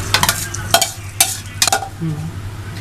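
Chickpeas tipped into a pot of masala cooking over high heat, giving a loud sizzle and fry hiss with several sharp stirring scrapes and clatters, close and without talk.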